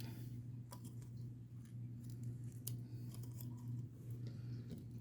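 Fingernails being cut give off a few sharp, faint clicks and snips spaced irregularly over a steady low electrical hum, with no talking.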